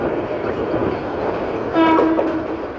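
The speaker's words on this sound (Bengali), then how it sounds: "তিতাস কমিউটার ট্রেনটি ব্রাহ্মণবাড়িয়া রেল স্টেশনের 1 নম্বর প্ল্যাটফর্মে গিয়ে প্রবেশ করছে" Titas Commuter train pulling into platform 1 at Brahmanbaria railway station, its horn blaring loud and steady for about half a second over a continuous rumble of the moving train.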